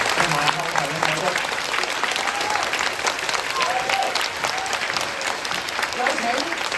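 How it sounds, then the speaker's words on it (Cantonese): Audience applauding at the curtain call of a school musical theatre performance, a steady dense wash of clapping that runs the whole time, with a voice speaking over it. "請俾熱烈嘅掌聲幫我哋在場所有嘅表演單位同埋後台嘅手足。"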